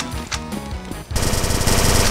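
A fire cannon weapon in Final DOOM blasts in loud, rapid bursts, a few separate shots followed by a dense, continuous barrage of gunfire, close and harsh.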